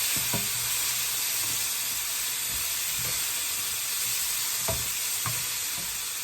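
Coconut milk custard with herbs sizzling in a pan over a low flame, a steady frying hiss with occasional stirring scrapes and clunks, close and alone.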